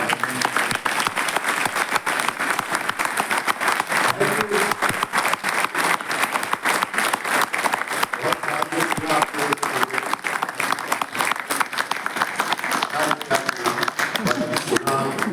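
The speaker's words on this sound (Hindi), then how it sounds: "मैं चाहूँगा कि एक बार जोरदार ताली" Loud, sustained applause from a literary festival audience in Gorakhpur, dense clapping filling the hall without a break for about fifteen seconds.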